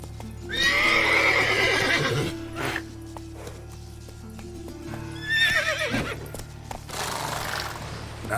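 Roach, the horse in The Witcher 3, moves with clip-clop hoofbeats and loud whinnies in two bursts, close and clear over a low steady background hum.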